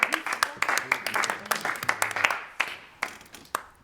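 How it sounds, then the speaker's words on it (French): A small group of performers applauding themselves during a rehearsal for a collective stage creation, with uneven, separate claps that thin out toward the end. Voices talk over them. "Vous pouvez vous applaudir."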